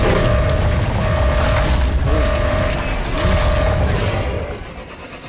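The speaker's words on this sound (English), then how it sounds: "that was the sound of my Seamoth exploding" Seamoth submarine blowing up in the Subnautica game, a modded sound effect: loud, dense rumbling booms with mechanical clanking over a steady underwater drone, holding strong before easing off near the end.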